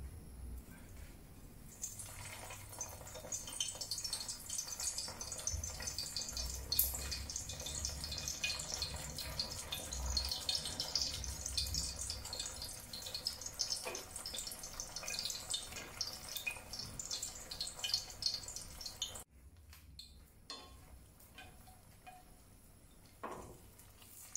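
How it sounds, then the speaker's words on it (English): Beancurd skin deep frying in hot oil for vegan mock duck gives a constant fine sizzle and crackle that runs steadily, then drops off sharply near the end. "Deep fry the first side until golden."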